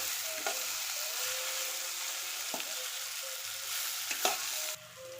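Bitter gourd fries in a pan with cumin and mustard seeds, making a constant close sizzle. Occasional light taps come from stirring.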